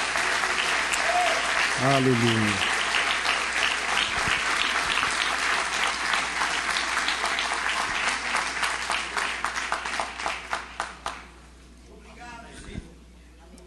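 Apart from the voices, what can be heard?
church congregation applause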